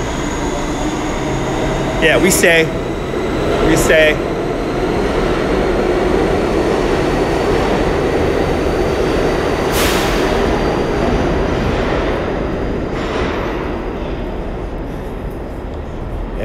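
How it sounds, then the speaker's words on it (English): A New York subway F train rumbles at a station platform, a loud continuous mechanical roar with brief high squeals and clanks, while a person speaks briefly over it. "I'm just gonna walk to the back of the train here"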